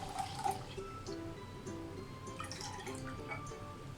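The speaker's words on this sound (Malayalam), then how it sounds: "നമുക്ക് ഈ വെള്ളം പതുക്കെ മറ്റൊരു പാത്രത്തിലോട്ട് മാറ്റി കൊടുക്കാം" Thin water is poured off settled coconut milk into another vessel, giving light, irregular drips and small liquid splashes, close and fairly quiet, for halwa being made from wheat flour.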